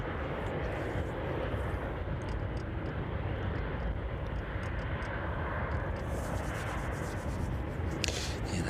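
A Beechcraft King Air turboprop at East Midlands Airport in the evening; a steady broadband engine roar holds loud and constant throughout, with no clear rise or fade and no voices.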